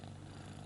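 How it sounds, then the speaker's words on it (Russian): A pet cat purring up close, a steady low rumbling hum with no pauses and no voices. "Он мурлычет."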